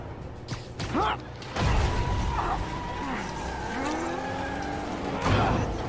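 A car in Marvel's Spider-Man driving hard, a continuous engine roar with tire squeals and skidding streaks rising and falling, plus a heavy thump, close and loud while a voice talks over it.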